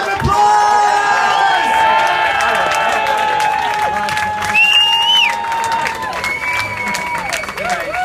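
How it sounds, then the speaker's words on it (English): Wedding guests applaud and cheer the newlyweds and best men in a loud, continuous wash of clapping and whoops, with raised voices and a whistle-like cry carrying over the crowd. "massive round of applause!"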